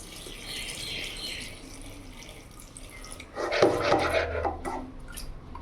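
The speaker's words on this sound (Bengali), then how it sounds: "এর মধ্যে এখন জল দিয়ে দেবো।" Water poured into lentils for mixed dal in a pressure cooker, a splashing gush that starts partway through after quieter rubbing and tapping, close and moderately loud.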